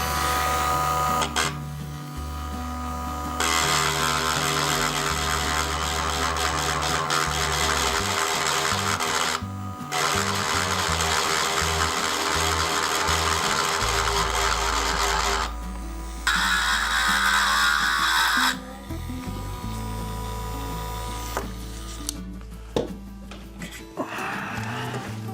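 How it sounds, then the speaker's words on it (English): A power drill bores out posts on an Eagle No D4 custom restoration, running in long loud bursts with short pauses between, the motor pitch shifting as the bit bites and releases. "Start out by drilling out the posts."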